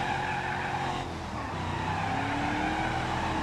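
A car in the driving game BeamNG.drive skids sideways, tires squealing over a steady engine drone, loud and sustained throughout with no talk.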